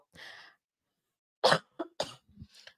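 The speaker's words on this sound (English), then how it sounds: "I still have the cough" A few close, dry coughs from one person, a short throat-clearing sound followed by a pause and then a quick cluster of harsh coughs, fairly quiet in an otherwise silent room.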